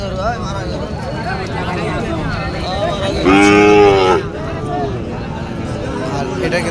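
A bright red cow at the Panchbibi cattle market, where Sahiwal cattle are traded, gives one loud, close moo lasting about a second amid constant crowd babble and people talking.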